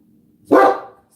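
A dog gives a single loud, sharp bark close by, against an otherwise quiet room.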